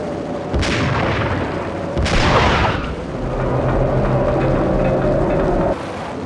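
Sniper rifle shots in the 2001 PS2 game Max Payne, two loud booming reports a couple of seconds apart, each trailing into a rumbling echo, over a steady din of wind and game ambience.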